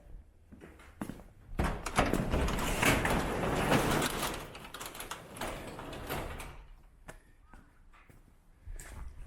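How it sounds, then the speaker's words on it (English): A garage door rolls open with a long, rumbling slide that builds and holds for a few seconds before easing off, followed by scattered clunks and light shuffling nearby. "open up the garage"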